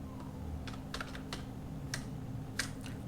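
Steady keyboard typing while Go code is entered, a run of soft key clicks with a few sharper taps over a constant low hum, no voices.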